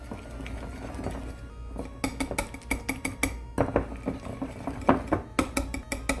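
Salted butter gets mixed by hand in a bowl, with quick, irregular clinks and knocks of a utensil against the bowl starting after a quiet moment and continuing close and fairly loud.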